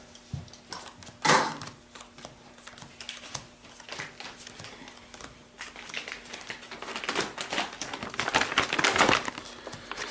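Magic the Gathering cards are shuffled in a run of close, crisp rustles, flicks and riffles that grow busier and louder toward the end, with no talking.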